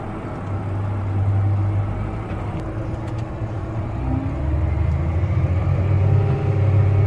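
A tractor engine hums steadily at high RPM while spreading liquid manure in a bottom field, a continuous low droning rumble with no talk.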